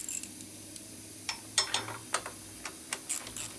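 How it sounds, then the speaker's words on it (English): A ratchet wrench clicks in short, irregular bursts while working on a Harley-Davidson Sportster during a 10k service, quiet and close with pauses between strokes. "Over here I can use a ratchet."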